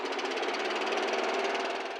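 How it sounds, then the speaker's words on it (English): A moped engine starts and settles into a steady, buzzing run, with a continuous rattling drone close by and no pauses, staged as an effect in an audio drama. "I started my moped"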